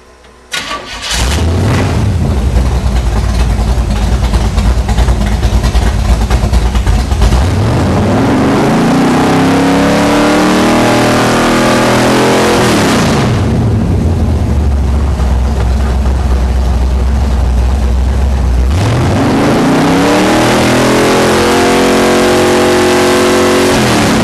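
A car engine fitted with an MSD 6AL-2 ignition control catches and runs loud and steady near 1,000 RPM, then revs up and falls back twice in long, sweeping pulls, with no talking.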